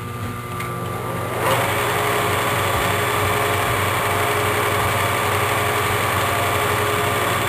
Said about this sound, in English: we cut and drill at the same time